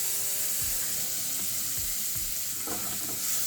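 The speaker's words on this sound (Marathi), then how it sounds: "आता यामध्ये आपण जे आपण वाटण केलेलं होतं धणे, जिरं आणि शोपचं तेही टाकून घेऊ" Ground coriander, cumin and fennel are added to hot oil with garlic and ginger for Shegaon kachori filling, producing a steady, broad hiss of frying with a few low thuds and scrapes from stirring.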